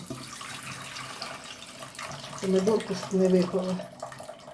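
Marinade brine splashes and pours in a steady stream from a jar of pickled tomatoes for a couple of seconds, close by, with a voice talking over it.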